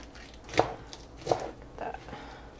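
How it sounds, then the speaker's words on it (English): A knife chops through a head of lettuce for a Polish-style sour cream and egg salad, with two crisp, distinct cuts about a second apart, followed by softer rustling of the leaves, close and fairly quiet. "And I just chop it up like that."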